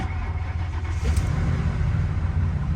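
A Ford 4.6 V8 engine rumbles steadily at idle after a cold start, a low continuous drone with a faint rise partway through, close by and fairly loud.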